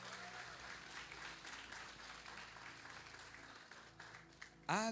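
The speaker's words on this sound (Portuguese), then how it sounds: "Vamos aplaudir o Senhor Jesus pela vida deles." A church congregation applauds, a soft, continuous patter of many hands heard faintly at a distance, ending in a sudden louder burst.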